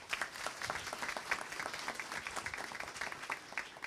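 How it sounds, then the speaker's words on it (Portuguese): Faint applause from an audience at a formal ceremony, steady clapping spread out at a distance, holding the same level for a few seconds. "a quem eu peço mais uma vez uma salva de palmas"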